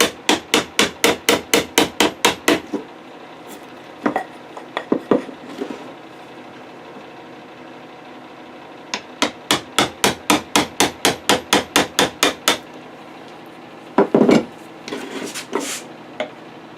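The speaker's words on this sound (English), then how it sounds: "take my 1/2 inch and just start to chisel down on it" A half-inch chisel is struck into wood on a clipped-wing Taylorcraft restoration: sharp, rapid hammer taps come in fast bursts of about eight to ten blows, separated by pauses and a few scattered single knocks, close and loud.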